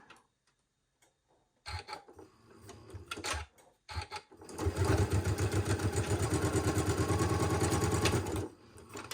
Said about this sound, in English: now I am ready to sew my lining pieces together